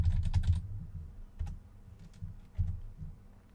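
Fingers tap out a folder name on a computer keyboard, a quick flurry of clicky keystrokes at first, then a few scattered single presses, close and clear with no other sound.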